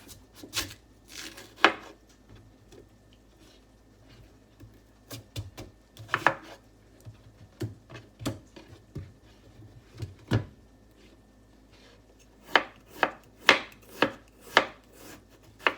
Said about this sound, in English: And then thinly sliced it.